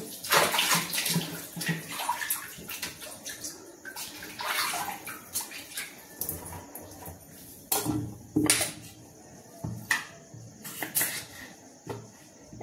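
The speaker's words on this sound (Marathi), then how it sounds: "मी घेतलेले 4 बटाटे, आता पहिले वॉश करून घेऊ" Four potatoes are washed by hand in water at close range, with splashing and swishing in uneven bursts and occasional knocks against a vessel.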